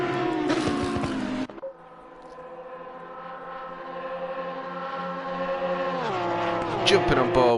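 The number 16 Porsche race car in a racing game at Mount Panorama: a high-revving engine whine climbs steadily through the gears after a sharp downshift, with a commentator speaking over it.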